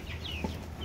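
Meat chickens cluck softly inside a backyard coop, a faint close cluck or two over a low steady background hum.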